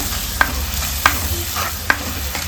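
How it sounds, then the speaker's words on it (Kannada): Tomato paste frying in ghee with a steady sizzle, punctuated by three sharp spoon taps against the pan at an even pace. "ಟೊಮೆಟೊ ಪೇಸ್ಟನ್ನು ಏನಿದೆ ಅದನ್ನು ಸೇರಿಸ್ಕೊಳ್ಳೋಣ ತುಪ್ಪದಲ್ಲಿ ಒಂದು ನಿಮಿಷ ಫ್ರೈ ಮಾಡ್ಕೊಳ್ಳೋಣ"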